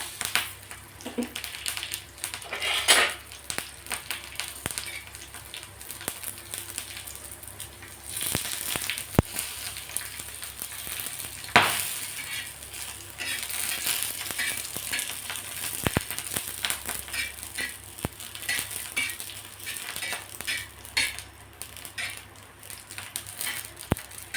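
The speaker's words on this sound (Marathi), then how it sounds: "यावर हिरव्या मिरच्या टाकायच्या आहे" Green chillies roast in oil in a pan, a continuous close crackling sizzle with occasional sharper pops and stirring scrapes throughout.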